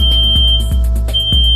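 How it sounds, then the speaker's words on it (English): A microbiological safety cabinet's alarm for a covered front air grill sounds as a loud, steady high-pitched electronic tone, pulsing in a rapid repeating pattern over a low mechanical hum. "The cabinet has an audio-visual alarm system with an immediate response to the accidental coverage of the front air grill"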